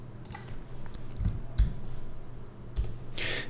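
A computer keyboard is typed on briefly while a new folder is named, a few scattered key clicks and taps at close range over faint low background hum.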